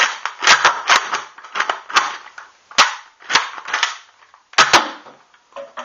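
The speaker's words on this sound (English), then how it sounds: "And now, hold the trigger down, and you get slam fire." A gun fires rapidly in slam fire with the trigger held down, producing a close, loud series of sharp cracks in irregular bursts, each trailing into mechanical rattling and clacking.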